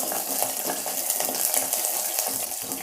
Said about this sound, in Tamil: பூண்டு இந்த எண்ணெயிலே நல்லா வதங்கிடணுங்க.